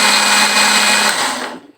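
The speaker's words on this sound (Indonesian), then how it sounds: "itu yang kita blender sekarang ini, dan mau ulang lagi memblender merica sama ketumbarnya tadi" A kitchen blender grinds pepper and coriander spices with a loud, steady high whirring roar that holds for over a second, then winds down and stops.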